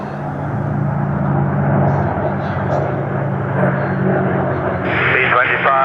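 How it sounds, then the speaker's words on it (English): A B-25 bomber flying an airshow display at Sywell, its engine drone a broad, steady roar over the crowd while an announcer's voice talks over it. "B-25, splitting now."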